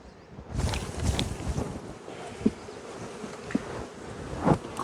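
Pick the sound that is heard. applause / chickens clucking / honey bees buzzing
honey bees buzzing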